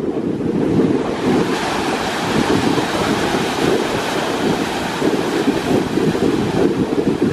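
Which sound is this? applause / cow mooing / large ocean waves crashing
large ocean waves crashing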